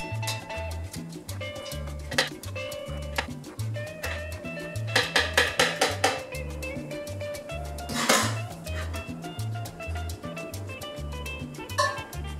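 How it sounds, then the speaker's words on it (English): Boiled kale is scooped into a blender while making rainbow tortillas, giving intermittent clinks and scrapes of a utensil against a container over quiet background music. "Here I'm scooping out all of the bits of kale into the blender or the food"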